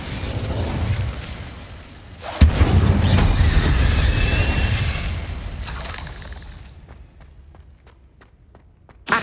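A fire spell cast in Hogwarts Legacy: a sudden blast bursts out loud and close, followed by a sustained roaring, crackling rush of flame for several seconds that fades, leaving faint scattered clicks and footstep-like taps.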